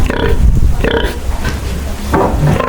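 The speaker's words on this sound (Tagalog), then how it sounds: "Alaga nilang baboy." Pigs, a sow and her piglets, grunt and snort in low, rough bursts, close by on a remote farm, with brief pauses between and a murmur of background noise.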